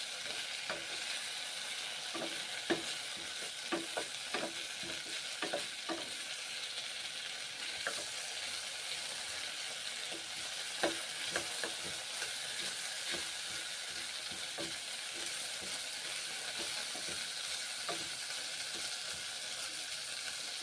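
Round slices of bitter gourd fry in a pan with a steady close sizzle, broken by frequent scraping clicks as a spatula stirs and turns them.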